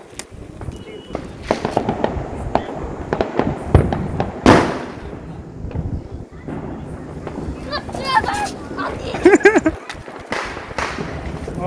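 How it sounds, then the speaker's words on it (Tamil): Diwali fireworks crackle and pop in a rapid series of sharp bursts with a louder bang midway, while people talk and cheer nearby. "சோ இப்ப ஜாஸ்மின் எப்படி வெடிக்குதுன்னு பாப்போம்."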